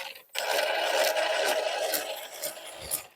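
Traxxas Slash 4x4 RC car with suspect bearings driving through mud, giving a continuous harsh, whining and grinding rasp that holds steady for about three seconds, close and loud.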